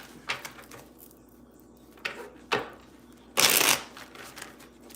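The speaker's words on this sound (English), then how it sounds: "I just shuffled 3 decks" Three decks of playing cards are shuffled in short riffling bursts, several quick flutters and a longer, louder riffle near the end, close by with no talk.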